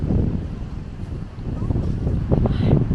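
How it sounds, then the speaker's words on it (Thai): Strong seaside wind buffets the microphone in a loud, steady low rumble with rising gusts, while faint voices are heard underneath. "ลมแรงเกิน"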